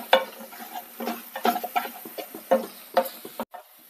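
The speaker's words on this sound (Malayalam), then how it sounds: "നമുക്ക് ചെറുതീയിൽ തന്നെ വെച്ച് ഇതൊന്ന് വഴറ്റിയെടുക്കാം." Spice powders, including 2.5 tablespoons of chilli powder, being sautéed over a low flame for a sadya-style fish curry, giving a steady run of stirring scrapes and soft clatters at an even rhythm, close by and moderately loud.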